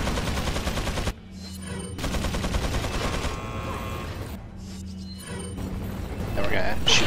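Rapid gunfire from the Resident Evil 4 video game, loud bursts of repeated shots firing at turrets, cutting off briefly then resuming, mixed with game effects and someone talking over it.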